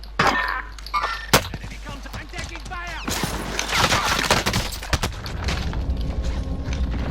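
M4A1 gunfire in Warzone rattles in quick bursts amid mechanical clanks and booms, close and loud, while players talk over the action.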